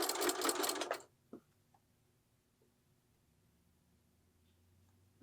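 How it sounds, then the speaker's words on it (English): A sewing machine stitches across the ends of a fabric wine gift bag in one loud burst lasting about a second, followed by near silence broken by a few faint clicks. "then you're going to stitch across both ends,"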